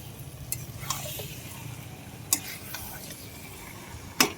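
Mutton being sautéed as kosha in a pan, a steady low sizzle with scraping and stirring and a few sharp clinks of a spoon against the pan, close by and with no voices.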